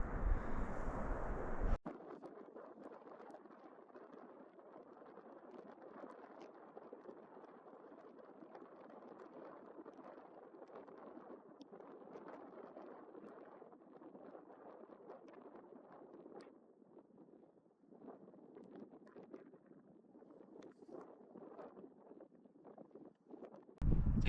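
Mountain wind blows at a low, steady level for most of the span, a soft continuous rush with slight dips, bracketed by brief louder bursts at the very start and end.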